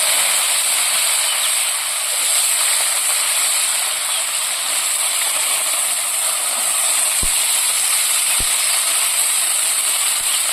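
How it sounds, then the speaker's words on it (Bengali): Potato pieces frying in hot oil with cumin and dried chilli for aloo posto, a steady broad hiss of sizzling oil throughout, fairly loud and close, with a couple of brief sharp clicks near the end. "জিরেটা আর শুকনো লঙ্কাটা খুব ভালো করে ভেজে নেওয়া হয়ে গেছে এরপর এখানে আমি দিয়ে দেবো আগে থেকে টুকরো করে রাখা আলু"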